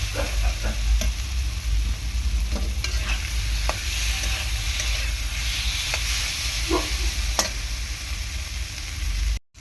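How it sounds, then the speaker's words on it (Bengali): Shrimp being sautéed and stirred into spice paste in a hot pan, a steady loud sizzle with repeated scraping stirs throughout, no voices. "এর মধ্যে চিংড়ি মাছ দিয়ে দিয়েছি, চিংড়ি মাছ দিয়ে ভালো করে কষিয়ে নেব"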